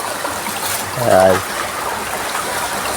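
Steady rushing water of a stream runs loud and close throughout, while a voice speaks briefly over it.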